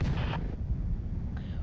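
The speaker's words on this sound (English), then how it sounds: "Funny story, this cannon was actually built to fire humans." A single heavy booming cannon blast from a human-firing cannon in the Henry Stickmin Collection game, a deep low rumble that rolls on briefly and fades, with no talk.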